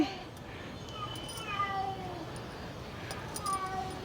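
A cat meows several times, a few drawn-out calls spaced apart, over quiet outdoor background.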